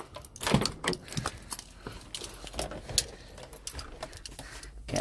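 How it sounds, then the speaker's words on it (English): Bunch of van keys jangling and clinking close up, irregular metallic rattles and taps over several seconds, fairly loud with no talking. "get my keys"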